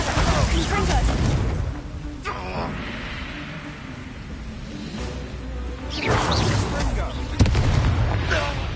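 Bombarda exploding spells fire in a Hogwarts wizarding video game, booming whooshes and sharp bursts rising over a busy battle, with a voice speaking between the blasts.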